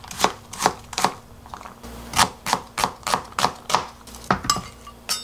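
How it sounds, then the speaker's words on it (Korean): A knife chops a quarter of an onion into small pieces on a cutting board for a Korean bean sprout rice sauce, giving a steady run of sharp, close knocks in quick rhythm with a few short pauses. "작게 자, 이런 식으로 썰어 줄게요"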